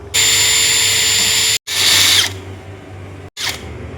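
An electric power drill driving screws into a handmade wooden chair, whining in three bursts: a long steady run, a shorter one that winds down, then a brief final burst, loud and close with no talking.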